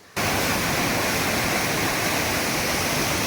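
Rushing water at Hogenakkal waterfalls roars loud and close, a dense, unbroken wash of white noise that starts abruptly and holds steady with no voices over it.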